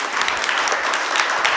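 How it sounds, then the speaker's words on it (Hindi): A group claps for a child at a gathering of orphaned children, a brief burst of dense, fairly loud applause that holds steady from start to finish with no talking. "बजाओ नारायण के नाम से ताली।"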